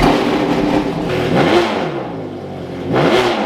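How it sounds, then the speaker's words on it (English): A loud straight-piped race car engine revs hard in repeated surges, each swelling and then falling away, close by and with no voices over it. "The car's so loud."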